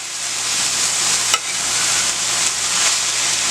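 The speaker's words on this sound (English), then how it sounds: "I go back over here to my vegetables and get out a good stir right here" Vegetables for fried rice sizzling in a hot pan, a loud, steady frying hiss with a sharp scrape of a stirring utensil partway through and a few lighter stirs after.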